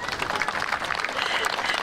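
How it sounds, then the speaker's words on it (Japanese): An audience applauds for a performer at a YOSAKOI dance festival in Iwaki, a dense and continuous clatter of clapping hands that holds for just under two seconds. "大きな拍手お願いします"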